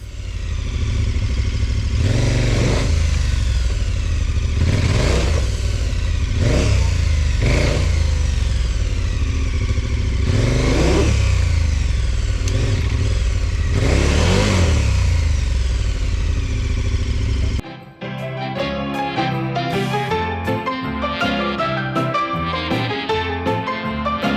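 KTM 1290 Super Adventure R motorcycle ridden offroad over branches, its engine revving and surging in repeated bursts with clattering underneath, loud and close for most of the stretch before cutting away abruptly to music.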